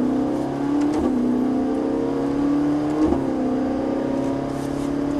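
Ferrari F458 engine on a track, revving steadily with rising pitch through two brief dips at gear changes, loud and close, with no talk over it.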